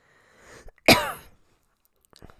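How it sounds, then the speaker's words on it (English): A single sharp cough rings out close by, brief and loud, with faint throat noises just before and after in an otherwise quiet room. "Sorry, the cough is back."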